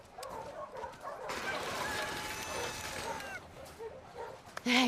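A dog in The Last of Us Part II, one that had been stabbed in the neck at an aquarium, whimpers with high thin whines and gives a few short yips, fairly close and loud, with a sharp bark at the very end.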